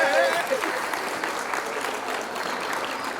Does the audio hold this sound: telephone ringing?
no